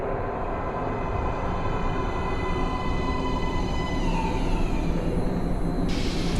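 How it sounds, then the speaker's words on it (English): A metro train pulls into an underground platform in the video game Metro Last Light, a steady loud rumble with rail noise and a whining tone rising and falling, no talk over it. "Please step away from the edge of the platform. Train coming in."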